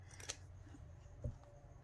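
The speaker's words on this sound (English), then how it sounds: "let's cut this one on this side now" Scissors snipping quilted paper ephemera for a junk journal, two or three short crisp cuts against a quiet room, one at the start and one near the end.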